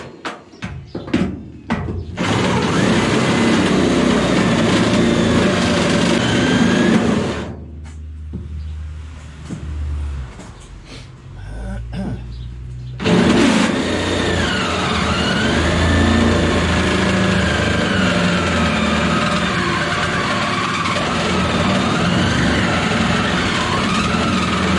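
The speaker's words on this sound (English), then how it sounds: "time for a new drill because this one is burning up" An overheating power drill runs in long, strained bursts during work on a Chevy Silverado truck camper hold-down project, a loud motor whine that stops briefly mid-way and restarts, close and steady.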